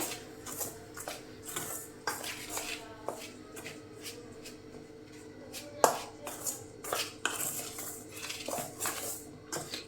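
A spoon stirring dough with hot oil for Telugu jaggery murukulu, making irregular scraping and clinking taps against a bowl, close and fairly quiet, with one louder knock midway.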